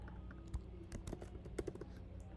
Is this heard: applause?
no